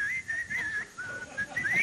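A person whistles a wavering, sliding tune on a 1978 television game show set, a single clear high note bending up and down in short phrases over a quiet background.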